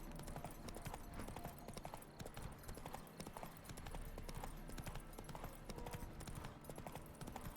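Roach, the horse in the video game The Witcher 3: Wild Hunt, trots with a steady, rhythmic clip-clop of hooves that runs continuously and close up, with no voices.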